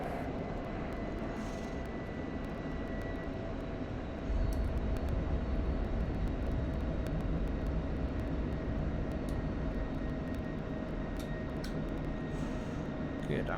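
An F-16C jet engine in a flight simulator video game drones as a steady, loud broadband roar with a faint tonal whine, holding constant throughout and thickening slightly partway, while a person talks over it.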